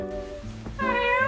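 A pet cat gives a close, clear two-part meow, a short call followed by a longer rising-then-falling one.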